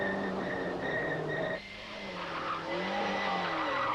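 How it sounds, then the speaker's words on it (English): An Opel Calibra rally car at the 1992 Rallye des Hautes Fagnes, heard from onboard on narrow roads, its engine droning loudly with shifting pitch and a brief dip as it lifts off the throttle. "We're on board with Marc Soulé. Hey, how about this for a ride?"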